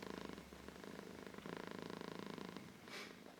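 A domestic cat purrs close by in a soft, continuous rhythmic rumble, faint and steady, with no voices.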